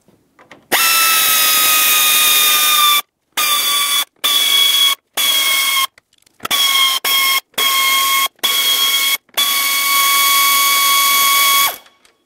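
A power tool under the hood of a 2009-2019 Ford Flex drives out 5.5 mm screws across the front, with about eight loud, high-pitched whirring bursts of varying length separated by short pauses.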